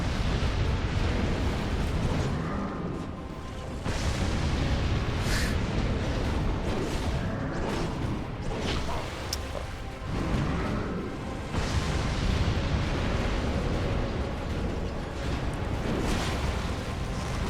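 Forbidden Sun pyromancy explosions in the video game Dark Souls 2 boom and burst over a constant roaring, crackling game soundscape, with a few sharper blasts and short dips breaking up the sustained noise and no talk.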